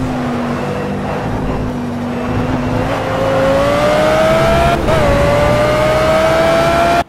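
Engine note of an Audi R8 LMS Ultra GT3 race car at Le Mans in a racing video game, a loud sustained drone that holds, then climbs in pitch through the revs, with a brief shift blip before cutting off.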